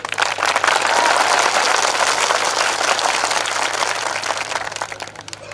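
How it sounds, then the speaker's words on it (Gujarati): Loud, dense applause from a crowd at a political rally in Naswadi, welcoming an MLA; steady clapping fills the whole stretch without talk, tapering slightly toward the end. "જોરદાર તાળીઓના ગણગણાટથી એમનું સ્વાગત કરી લઈએ મિત્રો"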